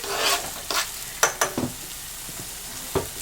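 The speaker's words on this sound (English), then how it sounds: "I've got some right now roasting in the pan" Tomatoes roast in a pan coated with avocado oil, a soft continuous sizzle broken by several sharp clicks and scrapes of a utensil against the pan, close and fairly quiet.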